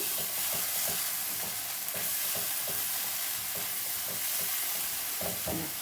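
Spice powder fries in a pan for dum aloo curry, making a continuous dense hiss with soft, irregular scraping taps from stirring, close by, with no voices.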